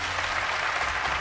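Audience applause at a televised talent show, a steady dense wash of clapping that stays loud and continuous from start to finish, with no voices over it.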